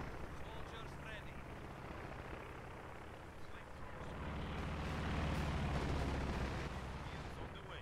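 Incendiary artillery barrage in the World War II strategy game Company of Heroes 2, a continuous dense rumble of distant shelling that swells louder in the second half, with dialogue over it.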